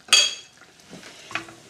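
A utensil stirs butter into chicken marsala sauce in a pan, beginning with a sharp metallic scrape against the pan, then softer scattered clinks and a second scrape, close and quiet, with no voices.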